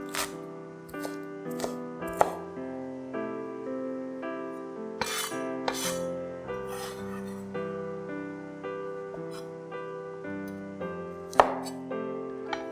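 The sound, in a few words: knife chopping green parts of spring onions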